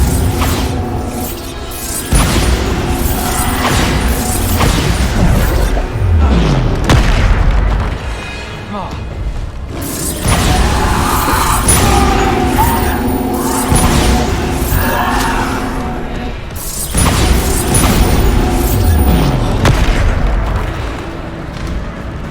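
Bombarda spell explosions in Hogwarts Legacy erupt as loud, close booms with rumbling debris and whooshes, coming in several heavy waves separated by brief lulls, with a voice speaking among them.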